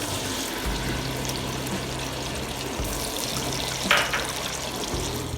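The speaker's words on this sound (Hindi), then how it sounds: "अब हम इसमें प्याज डाल के फ्राई करेंगे।" Onions tipped into half a cup of hot oil for frying, for a degi aloo gosht with beef: a steady, dense sizzling hiss throughout, with a brief louder splutter near the end.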